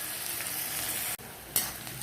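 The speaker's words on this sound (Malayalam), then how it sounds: "എണ്ണ ചൂടായി, സവാള ഇട്ടിട്ടുണ്ട്." Sliced onions sizzle in hot vegetable oil in a pan, a dense continuous frying hiss with a brief break and a stirring scrape, close and steady with no talking.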